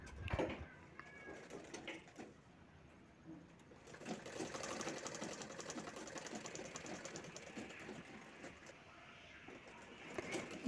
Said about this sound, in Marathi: दोन्ही बाजूनी शिलाई करायची आहे।